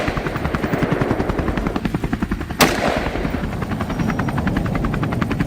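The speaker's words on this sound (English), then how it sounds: "The rest of the herd scattered in panic at the sound of gunfire" A helicopter's rhythmic rotor thump runs steadily throughout, with a single sharp gunshot crack cutting through near the middle during an aerial wild boar hunt over fields.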